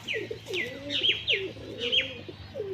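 Madras pigeons coo close by in a run of soft, repeated rolling calls mixed with a few higher chirps and faint low background hum.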